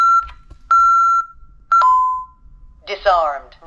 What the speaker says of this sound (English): Oh, got to turn off the alarm.